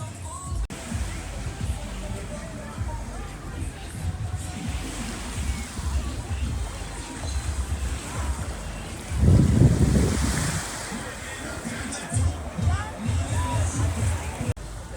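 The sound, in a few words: beach with waves, Curacao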